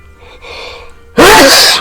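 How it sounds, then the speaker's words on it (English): Faint breathy noise, then a single loud, sharp sneeze bursts out close by. "excuse me, sneezing"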